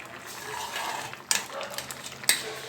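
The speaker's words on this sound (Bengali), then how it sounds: "এরপরে ঢাকা খুলে দেখছি।" A metal lid lifted off a cooking pot of papaya chutney, giving two bright clinking knocks against the rim over a soft bubbling, simmering hiss.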